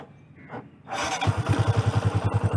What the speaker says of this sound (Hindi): ये मैंने बाइक ऑन कर लिया है